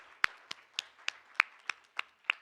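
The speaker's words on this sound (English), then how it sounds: "let's give another round of applause to our amazing trustees" Applause for trustees at a board meeting, heard as about nine sparse, evenly spaced claps from a single pair of hands, fairly faint, with no talk over them.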